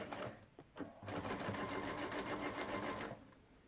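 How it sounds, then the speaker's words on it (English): A sewing machine runs steadily for about two seconds, stitching down a straight folded edge of fabric from the very top, with brief stops and starts around it. "start stitching at the very top"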